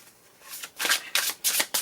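Tarot cards riffled and shuffled by hand in several quick bursts, the papery rustle rising and falling in roughly four close, fairly loud surges, with a short soft flutter at the start.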